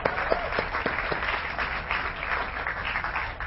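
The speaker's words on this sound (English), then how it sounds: "And that deserves a round of applause." A tournament audience in Texas applauds steadily, a dense wash of many hands clapping at moderate distance, with a few sharper claps standing out early on.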